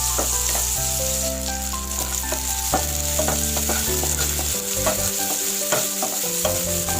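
Fenugreek, with small shallots added, fries in a pan for fenugreek payasam, giving a steady close sizzle and occasional stirring scrapes throughout, over background music with no speech.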